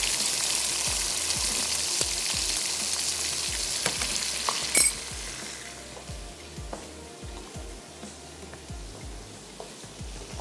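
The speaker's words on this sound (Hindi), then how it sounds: "चला गया इसमें अदरक और लहसुन का पेस्ट।" Ginger-garlic paste frying in a pan with onion for dhaba-style bhindi masala, giving a loud, bright hiss that settles into a steady, softer sizzle punctuated by scraping stir strokes.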